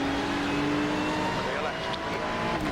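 A race car on a track sweeps past, its engine tone droning and shifting as it moves by, loud and close, with radio talk over the top.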